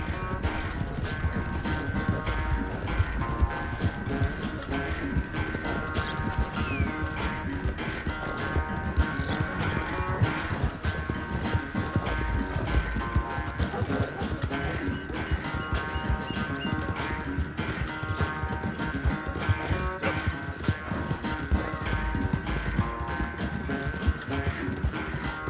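Continuous rapid hoofbeats of galloping horses in a Red Dead Redemption 2 horse race, over a dense, steady game soundtrack with music, loud and unbroken throughout.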